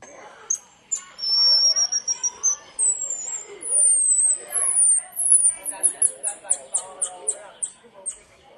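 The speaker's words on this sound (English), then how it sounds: "Keep in mind, this is a little monkey." A recording of a little monkey's call plays: a run of high, thin whistling chirps that rise and fall, then speed up into quick repeated peeps, with a person talking beneath them.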